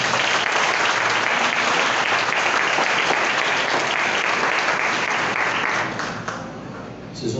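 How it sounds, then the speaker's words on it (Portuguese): A church congregation at a conference bursts into loud, dense applause for the Lord, a thick, sustained roar of clapping that holds steady for about six seconds before thinning out near the end. "Forte aplauso ao Senhor."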